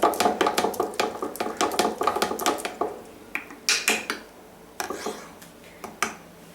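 A spoon clinks and knocks against a jar while a grape wine mixture is stirred, a fast run of sharp, close taps that slows into sparser, scattered clinks.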